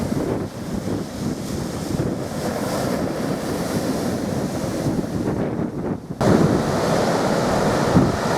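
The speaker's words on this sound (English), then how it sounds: "I love the sound of the waves." Sea waves breaking on a shingle-to-sand beach at Barmouth, a Welsh seaside town, a continuous rushing surf with wind buffeting the microphone and a louder surge near the end, no voices.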